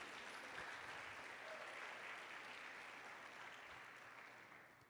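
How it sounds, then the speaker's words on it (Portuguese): A church congregation applauds during worship, a soft, distant, sustained wash of clapping that slowly tapers toward the end. "Você pode aplaudir o Senhor por isso?"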